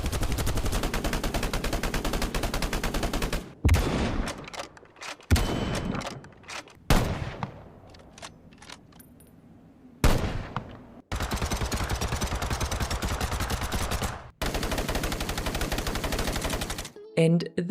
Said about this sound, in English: Here the devs shared a short clip of a few weapon comparisons and how the audio and animation has changed